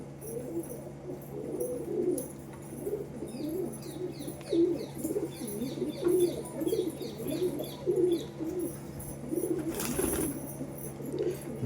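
Male pigeons of Chennai and Andhra lines in a loft coo repeatedly in low rhythmic bursts while hopping about before feeding, with faint chirps above and a brief flutter of wings near the end.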